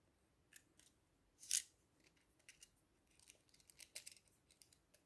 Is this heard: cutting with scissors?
yes